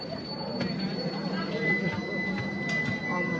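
A train at a railway station, with a low rumbling hum, faint squeal tones and scattered clatter, steady and moderately close, while people talk nearby.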